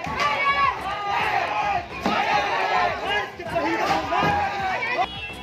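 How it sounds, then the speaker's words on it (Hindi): An angry crowd in Kulti, Asansol, West Bengal, in uproar over a theft suspect's death in a police lockup, with police vehicles set on fire. Many voices shout and clamour loudly and close in surging waves. "हंगामा मचा है, भीड़ गुस्से में दिख रही है।"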